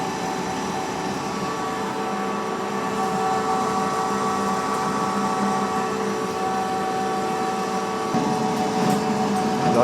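A metal lathe turning at 200 RPM takes a heavy cut of nearly a quarter inch with a carbide insert, giving a steady grinding drone with a high whine over it that runs without a break from start to end.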